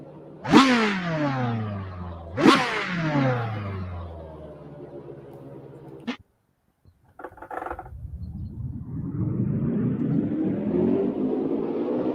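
Sim racing game car lapping the Nürburgring with paddle shifts: two sharp revving engine pulls that fall away, a brief cutoff and near silence, then the engine builds again in a rising drone.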